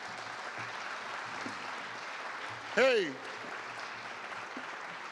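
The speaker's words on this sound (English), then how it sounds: "give them a round of applause" Modest applause for local ironworkers at an outdoor university building topping-off ceremony, a soft, distant patter of clapping, briefly cut by a loud voice calling out.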